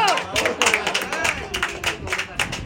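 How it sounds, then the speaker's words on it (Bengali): Several people clap hands at a home engagement ceremony, a dense run of irregular claps close by with voices chattering over and under it. "আমার তো সবাই হাততালি দাও"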